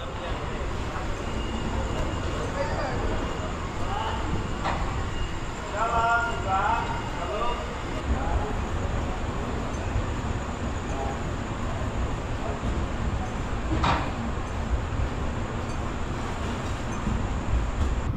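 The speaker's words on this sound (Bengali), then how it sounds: "এই মুহূর্তে আমাদের ট্রেন শালিমার স্টেশন থেকে ছাড়লো।" The Jnaneswari Express pulls out of Shalimar station at night, a steady rumble of rolling wagons and wheels on track running throughout, with faint voices and occasional clanks over the continuous noise.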